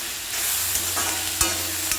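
Multigrain kichadi is stirred in an iron pan, a constant hissing sizzle with a few short scraping knocks of the spoon against the metal.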